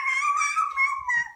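A young child imitates a dog with her voice, giving a few drawn-out, howl-like woofs in quick succession, close and fairly loud.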